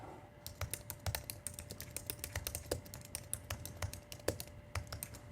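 Rapid keystrokes on a computer keyboard while entering a search phrase, a steady run of close, crisp clicks in uneven rhythm with no talking.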